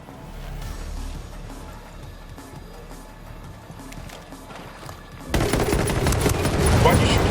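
Gunfire from the video game Tom Clancy's Ghost Recon Wildlands, with a steady run of distant shots and background clatter that suddenly becomes a loud, dense burst of fire toward the end.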